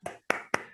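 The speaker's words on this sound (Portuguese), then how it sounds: "Uma salva de palmas para a Angélica." Three sharp, close hand claps land in quick, irregular succession, with no voices, as an audience at a Spiritist lecture begins clapping.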